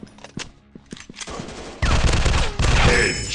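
Gunfire in a robot first-person shooter game: a few sparse, sharp shots give way to loud, rapid automatic bursts that build in intensity toward the end.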